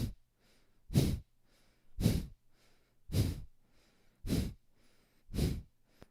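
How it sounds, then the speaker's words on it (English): Six strong, evenly spaced nasal exhales during a kundalini yoga breathing exercise, each a short forceful puff about a second apart with quiet gaps between, close and clear. "Breathing through your nose."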